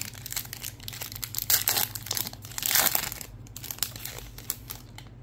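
Basketball card packs are torn open by hand, giving close, crisp crinkling and tearing of foil wrappers in irregular bursts, with a louder ripping stretch in the middle and quieter rustles toward the end.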